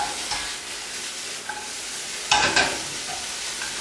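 Flank steak fries in a pan with a steady, close hiss of sizzling fat and a brief louder burst midway as the meat is turned.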